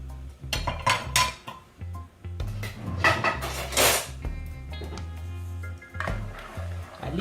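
A spoon stirs vanilla through Jamaican cornmeal porridge in a pot, making close, uneven scraping and clinking against the metal in short bursts, with low kitchen hum underneath and no talk.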